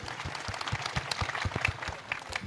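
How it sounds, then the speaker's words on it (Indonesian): Audience applause at a reform anniversary discussion event welcoming a guest, a steady patter of many hands clapping throughout at moderate level, no talk over it. "tepuk tangan buat RG, Rocky Gerung."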